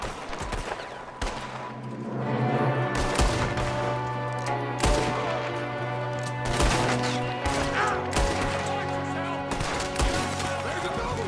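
Scattered gunshots in a Red Dead Redemption 2 shootout: sharp, separate cracks at irregular intervals, moderately loud over a steady bed of music with tonal layers.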